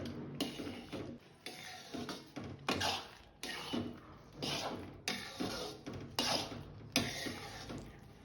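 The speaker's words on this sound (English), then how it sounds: "Keep on stirring." Suji Kara Bath stirred in a pan over a low flame, the spoon scraping and clinking against the metal in steady repeated strokes, close by and moderately loud.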